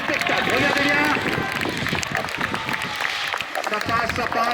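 Spectators clap for soapbox racers at an outdoor downhill race, a dense, continuous patter of applause mixed with crowd noise and people talking over it.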